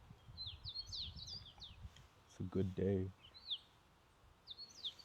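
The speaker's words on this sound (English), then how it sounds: "The birds are chirping." Birds chirp in a park with quick, high, repeated calls in bursts, fairly close, while someone speaks briefly in the middle under the birdsong.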